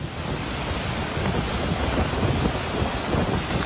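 A strong rain and wind storm in Baguio City sounds as a continuous roaring wash of wind and heavy rain, dense and loud, with gusts buffeting the microphone.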